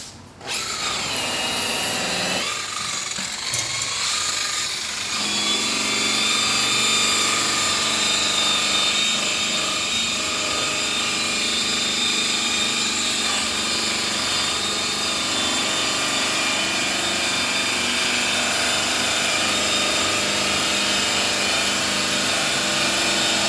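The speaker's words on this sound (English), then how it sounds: "I'm going to put my buffer at a 45-degree angle like this, and I'm going to be buffing off nice and fast." A power buffer spins up and polishes a billet wheel, held at an angle and buffing fast, producing a loud, continuous high whine that stays steady after an uneven start, with no talking.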